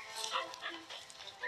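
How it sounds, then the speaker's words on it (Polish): A dog in the video game Mimpi Dreams gives a short run of faint, high yips and whimpers, heard on their own. "Pies."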